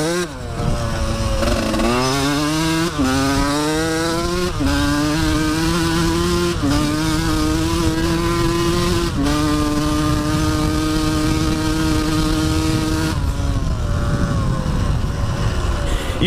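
A dirt bike engine revs hard while riding, loud and close, climbing in pitch through repeated gear shifts with a buzzing, sustained drone that drops away near the end.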